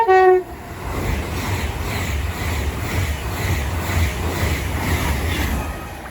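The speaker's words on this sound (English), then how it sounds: "Passing through now is a West West Coast service to London Euston from Manchester Piccadilly" West Coast Main Line service to London Euston from Manchester Piccadilly rushing through Watford Junction, a loud steady roar of passing carriages with rhythmic wheel clatter, opening with a brief horn note.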